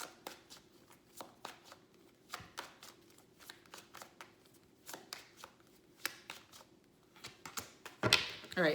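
Tarot cards being shuffled by hand, a steady run of soft, crisp riffling flicks repeating close up and quietly, ending in a brief louder rustle.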